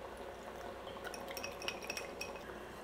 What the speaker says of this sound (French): On va juste la remuer un petit peu avant.